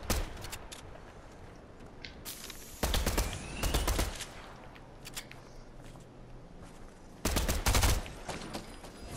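Bursts of automatic gunfire in the video game Fortnite, a few rapid volleys separated by quieter gaps with faint background game sounds, no talking.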